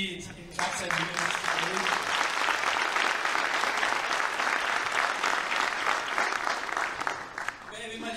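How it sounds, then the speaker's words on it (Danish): A crowd claps steadily for several seconds at a music school spring concert, broad and sustained, starting after a brief moment and continuing to the end. "Giv mig lige en klap til dig."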